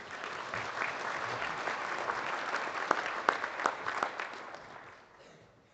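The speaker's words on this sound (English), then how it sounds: "Let's give her a round of applause as she comes up." An audience at a 4-H livestock judging awards event applauds as a contestant comes up to speak, a sustained wash of clapping with a few sharper claps near the middle before it fades out.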